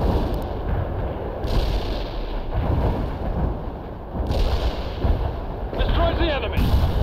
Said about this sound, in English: Artillery strike hit the mark.